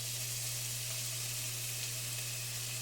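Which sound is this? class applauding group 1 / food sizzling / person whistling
food sizzling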